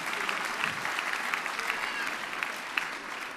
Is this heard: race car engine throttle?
no